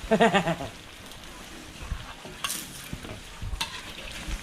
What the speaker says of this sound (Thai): ทอดได้ทีแล้วครับย่าราดน้ำปลาเลย